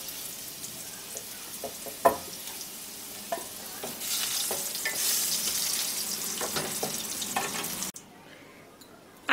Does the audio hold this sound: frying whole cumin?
yes